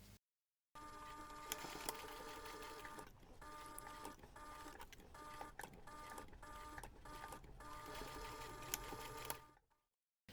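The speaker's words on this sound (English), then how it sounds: "And then you would take this to the machine and stitch 2 millimeters from the line around the curve" A sewing machine runs steadily for several seconds, stitching a fabric jewellery pouch around a curve. The buzzing is close and even, broken by brief slowdowns before it stops.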